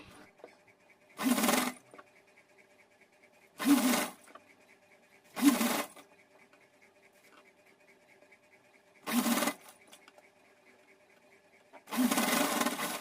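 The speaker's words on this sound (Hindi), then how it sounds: "यहाँ किनारे किनारे सिलाई लगाएंगे।" A sewing machine stitches along the folded edge of cotton fabric for a small two-in-one dress, running in five separate loud bursts of steady whirring, each lasting about half a second to a second, with quiet pauses between them.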